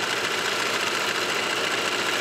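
A serger sewing machine stitches a side seam on a dress, giving a fast, steady whirring hum close by, loud and unbroken with no talking.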